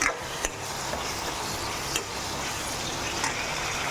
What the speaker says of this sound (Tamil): நல்லா எண்ணெயிலே வதங்கணும்